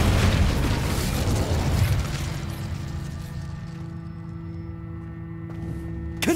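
A Confringo spell blast in Hogwarts Legacy: a loud, close explosion boom up front that rolls off into a long fading rumble, with a faint sharp pop at the very end.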